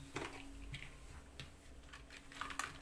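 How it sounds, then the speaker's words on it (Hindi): Keys tapped on a keyboard plugged into a mobile phone through an OTG adapter give a few light, scattered clicks, quiet and close, with a steady faint hum beneath. "देखिए गाइस अब मैं टाइपिंग करता हूँ"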